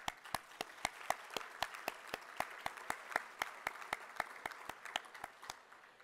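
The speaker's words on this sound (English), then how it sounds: "Dan, hold your applause, okay?" Audience applause at a San Diego firefighters' support luncheon, a steady patter of many hands clapping together at moderate distance, sustained for several seconds without talk.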